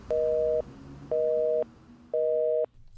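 Phone line tone after a call is hung up: three evenly spaced, identical steady beeps, each about half a second long with equal gaps between, clear and prominent.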